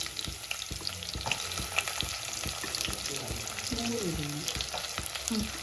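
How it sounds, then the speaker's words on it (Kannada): Onion and curry leaves fry in oil for tomato chutney, giving a steady close sizzle with scattered crackles and pops and a few stirring scrapes throughout. "ಎಣ್ಣೆ ಸ್ವಲ್ಪ ಚೆನ್ನಾಗೇ ಹಾಕ್ಕೊಳ್ಳಿ. ನೆಕ್ಸ್ಟು ಆನಿಯನ್ ಮತ್ತು ಕರಿ ಲೀವ್ಸ್, ಕರಿಬೇವು ಮತ್ತು ಈರುಳ್ಳಿ."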